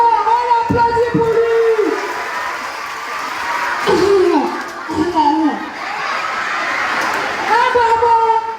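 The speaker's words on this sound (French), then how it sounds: "Bravo, on applaudit pour lui." Audience at a Christmas event in Duékoué applauding for a child, scattered clapping and chuckles mixed with crowd noise, several short bursts rising and fading while a voice speaks over them.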